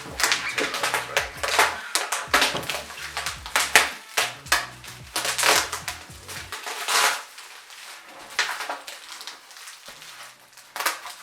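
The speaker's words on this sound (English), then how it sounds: "Let me unwrap this one." Artwork being unwrapped from bubble wrap packaging, heard as close, sharp crackling pops and rustles in irregular bursts, with quieter stretches between handling.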